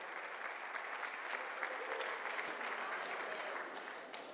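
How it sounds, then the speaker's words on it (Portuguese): A church congregation claps together in sustained, fairly even applause that fades slightly toward the end, with some murmured voices mixed in. "Você pode aplaudir ao Senhor."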